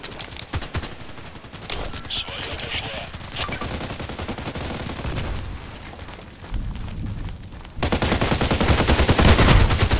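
Repeated gunfire from a 117D weapon in the online shooter Contract Wars, with sharp shots spread across the clip and a loud, dense volley near the end.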